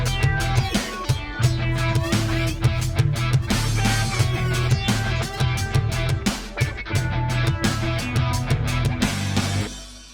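Music run through iZotope Stutter Edit 2 and blended with the original signal, heard as a loud, dense mix with choppy rhythmic repeats and stuttered bursts over a steady bass, tapering off at the end.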